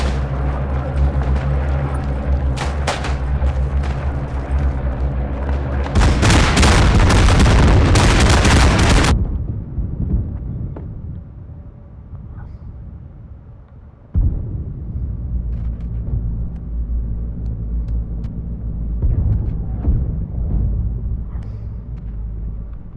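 A bombing run in the World War I shooter Isonzo on an Italian mountain front: heavy, roaring explosions build into a loud, sustained blast, then fade into rumbling distant artillery and another sharp detonation.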